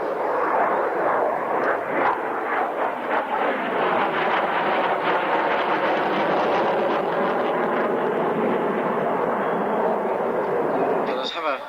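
A low-flying aircraft passing at the Fairford International Air Tattoo airshow, a loud broad roaring engine drone that swells and holds for several seconds, with wind buffeting on the microphone.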